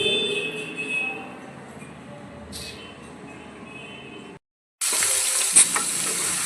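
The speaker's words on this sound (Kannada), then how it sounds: "ಫಸ್ಟ್ ಆಫ್ ಆಲ್ ಪನ್ನೀರನ್ನು ಕಟ್ ಮಾಡಿ ಈ ಥರ ಫ್ರೈ ಮಾಡ್ಕೋಬೇಕು." Paneer sizzles and fries in a pan in a home kitchen, making a steady hiss that runs for several seconds, breaks off briefly, then returns louder and brighter.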